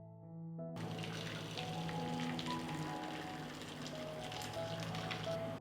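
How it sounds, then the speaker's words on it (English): Hot water gushes from a tap into a large pan lined with a cloth and glass jars, a steady close rushing stream that starts abruptly after a brief hum and continues to the end. "Fill the pan with hot water."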